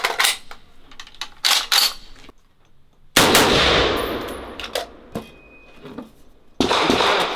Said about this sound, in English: Just for fun, we're gonna try shooting standing up and we'll do a couple reloads.